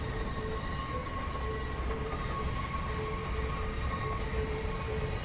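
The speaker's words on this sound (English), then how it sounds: "So we squeal our way around the very tight curve into the Bay Transit Centre." An NJ Transit train in Train Sim World 3 takes a very tight curve into a bay transit centre, wheels squealing with steady high tones over a constant rumble of wheels and rails, loud and close, with no talk.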